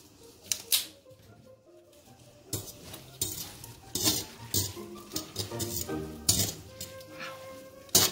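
Linguini being stirred in a pot partway through boiling, with a spoon clattering against the metal in a string of quick, uneven knocks and scrapes, close and clear, with no talking.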